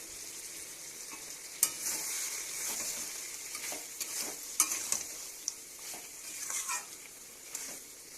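Bori lentil dumplings and pointed gourd (purul) frying and being stirred in a pan, a soft continuous sizzle with scraping stirs and light clinks, fairly quiet and close, no voices.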